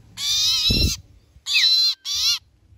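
Bird calls during bird trapping with a decoy bird: three loud, clear whistled calls close by, the first long and the next two short in quick succession, with a brief low thump between, no voices.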